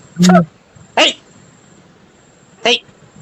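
A dog gives three short, separate barks with pauses between them, close by and fairly loud, against a quiet background in a village setting.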